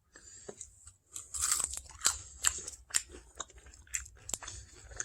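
Close, crisp crunching bites into an onion ring followed by wet chewing, a series of sharp irregular crunches spread over several seconds with quiet gaps between them.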